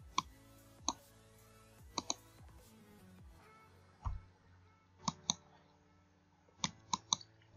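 Mouse clicks while navigating a cryptocurrency earning site to withdraw Dogecoin, coming as crisp single and paired clicks spaced over several seconds, fairly close, over a faint background hum with no talking.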